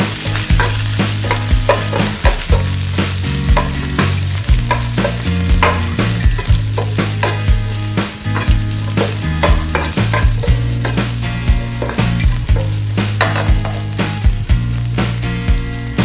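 Chopped onions fry in a pan for a winged bean curry, a loud close sizzle under constant rhythmic stirring scrapes and clacks of a spatula, with a low hum throughout.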